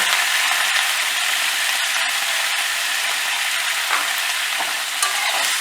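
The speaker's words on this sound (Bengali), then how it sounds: "বেগুন শিম আলু এগুলোকে এর মধ্যে একটু কষিয়ে নেব" Brinjal, beans and potato sautéing in a pan as a steady, loud sizzle, broken by scattered scraping and clicking stirs, with no voices.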